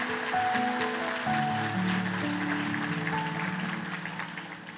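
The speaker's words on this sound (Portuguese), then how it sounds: "Dê um aplauso a ele, porque ele merece." An audience at a church service applauds over sustained keyboard chords, a moderate round of clapping that gradually fades over a few seconds.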